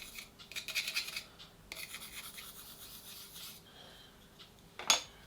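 A stone, the Nakayama Maruka Suita, being rubbed against a granite block with silicon carbide grit, giving a close, gritty rasping scrape in uneven strokes that ends with one sharper scratch.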